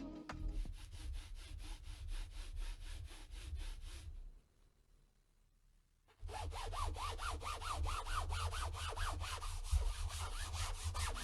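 A computer mouse is swiped back and forth across the Spyre Loque and Kamek mouse pads, giving rhythmic, scratchy rubbing strokes in two runs separated by a short pause.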